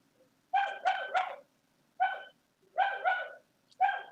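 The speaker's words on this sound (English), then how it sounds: "And the dog should be quiet in a minute." A dog barks in short bursts, a quick cluster of three followed by single and double barks, fairly close and clear against a quiet room.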